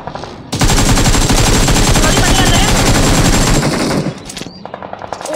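Automatic gunfire in the BGMI mobile battle royale game: a dense, rapid burst of loud shots for about three seconds, followed by a few scattered lighter shots and game noises.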